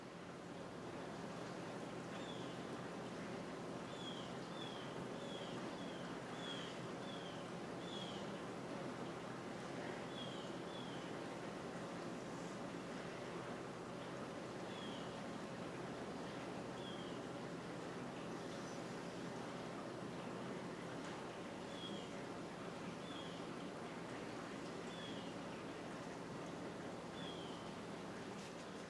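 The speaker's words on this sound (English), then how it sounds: "So you can hear my dishwasher going in the background there." A dishwasher in a home great room runs in the background as a steady, faint broadband whoosh and hum, with occasional light ticks, continuous and unchanging throughout.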